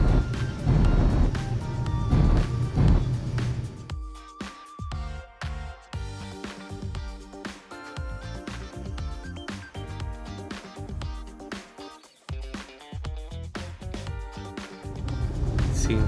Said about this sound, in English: You can hear the engines roaring as that whole hunk of metal is moving around.